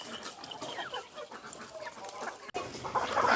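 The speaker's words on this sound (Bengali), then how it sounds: "রোদ উঠে গেছে, এখন মুরগিগুলোকে ছেড়ে দিব" A flock of backyard chickens clucks in a busy, overlapping chorus, with one sharp knock partway through and a louder rush of noise building toward the end.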